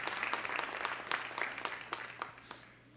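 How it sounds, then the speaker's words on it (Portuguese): Church congregation applauding, a sustained wash of many hands clapping at moderate distance for a few seconds, slowly fading, with no talk. "Agora vocês aplaudem ao Senhor."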